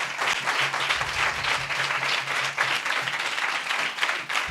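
A church congregation claps together in praise during a Christian worship service, a dense, sustained round of applause from many hands, fairly close and steady, with a low hum beneath it.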